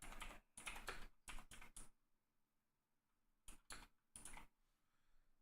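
Quiet computer keyboard typing in short bursts of rapid keystrokes, a name entered in two clusters separated by a pause, close by with no voices.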